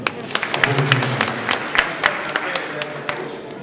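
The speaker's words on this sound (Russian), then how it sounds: "Аплодисменты. Аплодисменты." An audience applauds in a hall during a televised singing interview, with sustained clapping that has sharp individual claps standing out and the crowd's noise staying steady throughout.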